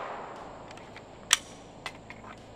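Pistol gunshots ring out during firearms training at a range: three sharp, fairly distant cracks spaced unevenly over a few seconds against faint background noise.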